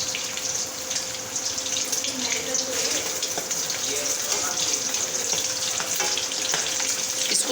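Lamb rib pieces fry in a pan with a steady, bright sizzle and crackle, close and continuous, with faint stirring clatter and a running-water wash underneath.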